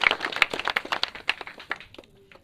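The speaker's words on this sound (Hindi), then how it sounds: "इसके लिए कम से कम एक और ताली लगाइए जोरदार" An audience claps for a Champaran wrestler who lifted 70 kg overhead with one hand: a quick burst of close, sharp claps that thins out and fades within a couple of seconds.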